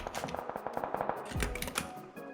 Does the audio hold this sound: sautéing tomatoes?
no